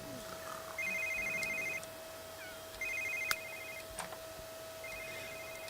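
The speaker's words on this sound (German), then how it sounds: "Dieses scheiß Telefon." A telephone in The Sims 3 life-simulation game rings in repeated electronic bursts, each roughly a second long, over a faint steady game background with a few ticks.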